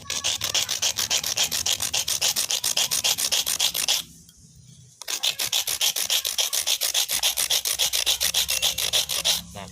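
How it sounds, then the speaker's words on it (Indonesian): A homemade stove part made from scrap is rubbed back and forth on a rough stone, giving a loud, rhythmic rasping scrape in rapid even strokes with a one-second pause partway through. "Nah, seperti ini kita gosok ke batu juga bisa."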